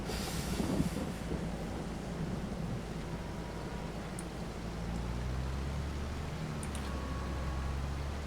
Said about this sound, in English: And not get hit by the damn train.